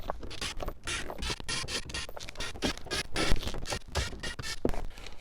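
A screwdriver works screws out of a Jeep Commander dash panel, giving close scratchy scraping and creaking clicks in irregular bursts with no talking.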